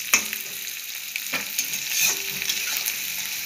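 Ginger frying in oil for a tarka, a steady close sizzle with a few sharp stirring clinks and scrapes over the hiss.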